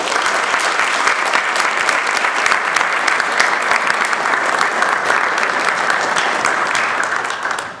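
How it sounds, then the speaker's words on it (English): Sustained audience applause at a university humanities lecture event, a dense steady patter of many hands clapping for several seconds and fading out at the end. "So please give Wendy a round of applause."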